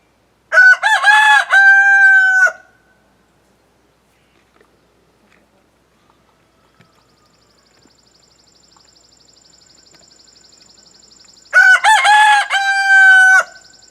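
Two loud, close rooster crows about ten seconds apart, each a choppy rising call ending in a held note, with near silence and faint background in between.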